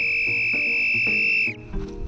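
A loud, piercing taxi-style whistle from a person is held steady at one pitch for about one and a half seconds, then cuts off, leaving faint room noise.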